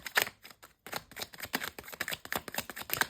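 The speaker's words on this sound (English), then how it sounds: "Let's do one more shuffle." Rapid papery riffling and soft slaps of tarot cards being shuffled, in several quick bursts with brief pauses between, close and fairly crisp.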